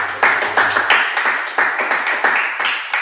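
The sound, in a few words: group clapping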